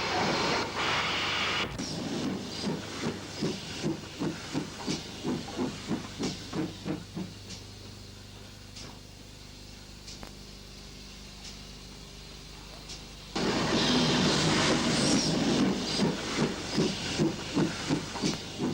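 A GWR 5700 class pannier tank steam locomotive loose shunting a wagon in a former LMS goods yard: steady, evenly spaced exhaust chuffs with loud bursts of hissing steam at the start and again near the end.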